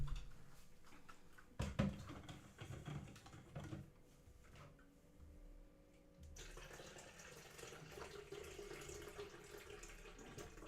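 A tap runs while someone fills a water bottle, a faint, steady rush of water after a few clunks and knocks, heard from a distance in a quiet room.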